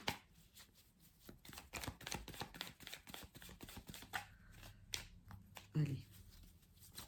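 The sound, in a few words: cutting a deck of tarot cards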